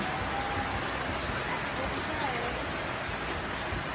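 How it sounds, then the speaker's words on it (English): Steady rain falling outside a house, a dense even hiss of drops on surfaces, continuous and moderately loud throughout. "It's raining."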